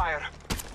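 Gunfire rings out in the Apex Legends Mobile shooter, a short sharp burst of shots with game voices and sounds around it.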